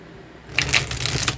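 Tarot cards are shuffled close by: after a short quiet pause comes a quick, crisp riffle of papery flicks lasting about a second.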